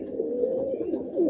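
Malwai pigeons coo in a loft, a soft, low, continuous cooing close by with a slight swell at the end, no voices.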